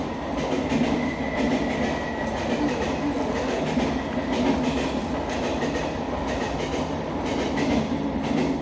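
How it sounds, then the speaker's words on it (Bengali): A train rumbles steadily past nearby, with rhythmic clickety-clack of wheels on rails throughout and no voices. "ট্রেনটাও চলে এসেছে"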